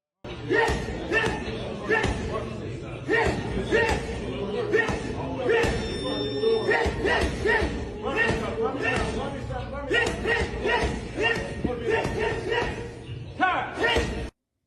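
A professional boxer hits a heavy bag during fight training, making rapid, steady thuds and slaps that continue throughout over busy background voices.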